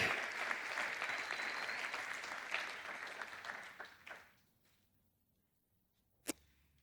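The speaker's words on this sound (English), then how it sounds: "Another round of applause for the Nas Choir." Audience applause for a choir at a university graduation ceremony, a dense broadband wash of clapping that fades out around four seconds, followed by near silence and one sharp isolated clap or knock near the end.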